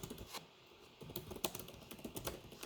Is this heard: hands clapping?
no